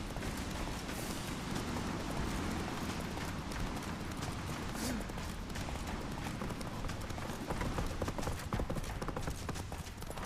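Roach, the horse in the video game The Witcher 3, gallops hard in a continuous rapid drumming of hooves amid loud, dense action noise that stays heavy and unbroken throughout.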